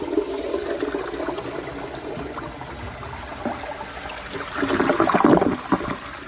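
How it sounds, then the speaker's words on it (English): A 1999 Universal Rundle Atlas comfort-height toilet flushes with a steady watery rush that swells louder near the end, heard alone at close range with no talking. "Here is another flush."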